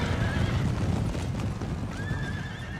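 Horses neigh and whinny over the constant roar of a cavalry clash in Napoleon Total War, light horse caught between heavy horse and hussars, with hooves clattering under a dense, loud battle din.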